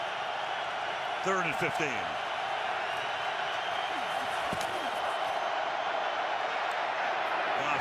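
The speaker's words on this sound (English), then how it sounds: "Mack wants the crowd at full throat. They comply." A packed football stadium roars at full volume during a Bears vs Rams game, a dense, unbroken wall of crowd noise lasting throughout, with a commentator briefly speaking over it.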